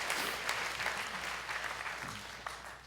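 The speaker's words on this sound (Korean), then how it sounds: "우리 그냥 박수 한번 해주실래요?" A church congregation at Sunday worship gives steady applause for visiting elders, a moderately loud, even round of clapping that holds throughout and tapers slightly at the end.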